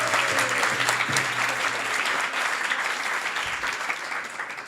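A big round of applause from the audience at an ISKCON temple talk in Silicon Valley, dense and sustained clapping at an even level throughout.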